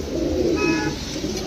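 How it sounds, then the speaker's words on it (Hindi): A Madrasi pigeon gives a brief soft coo, close by, over steady background noise from a pigeon market setting. "ये देखिए जीरा कबूतर मद्रासी"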